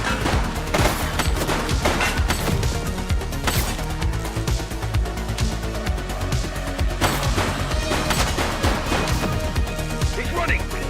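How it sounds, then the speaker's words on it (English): Rapid bursts of gunfire from The Precinct, a police video game, crackle loudly and continuously over dense music and effects, with a few heavier crashing hits. "He's shooting!"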